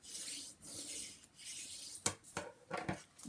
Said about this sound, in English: So I'll just burnish that into place.